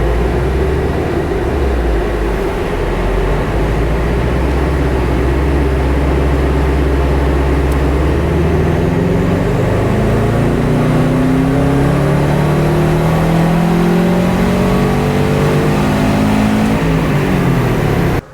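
A car engine roars loud and continuous on a dynamometer power run testing performance fuel, revving up steadily through the gears with rising pitch sweeps, then cutting off abruptly at the end.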